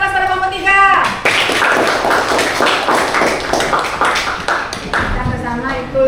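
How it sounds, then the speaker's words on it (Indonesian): Students in a school classroom give a group a round of applause, a dense, steady burst of close clapping lasting several seconds, with voices briefly audible at the start and end. "Dan beri aplaus pada kelompok 3."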